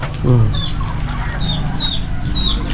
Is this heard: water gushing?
no